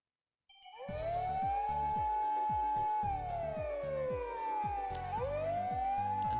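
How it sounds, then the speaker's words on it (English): A police siren wails in Robotics;Notes DaSH, rising and falling in long sweeping tones over a steady pulsing beat, loud and continuous for several seconds with no talk. "They even have a police siren and probably even a police car going as well."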